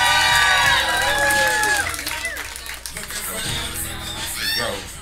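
Crowd at a roast battle comedy show cheering and clapping, a loud burst that fades slightly, mixed with shouts and a voice speaking over the noise.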